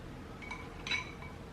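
A spoon clinks a couple of times against a pot while sauce for a homemade seafood boil is mixed, two faint, bright metallic taps in a quiet kitchen.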